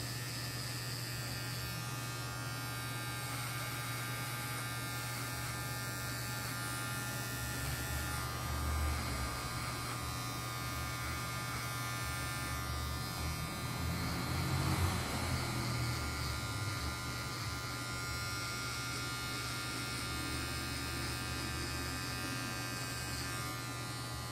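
An electric hair clipper buzzes steadily and close throughout a fade haircut, its tone shifting slightly as the blade tips work the hair, with a brief louder stretch midway.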